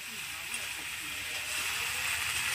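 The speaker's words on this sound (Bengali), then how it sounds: "নুন দিয়ে সমস্ত সবজিগুলো খুব ভালোভাবে তেলের মধ্যে ভেজে নিতে হবে।" Vegetables salted and fried in hot oil for a winter spring-onion and dried-fish dish give off a steady, dense sizzle and hiss that holds evenly from start to finish and stays close and fairly loud.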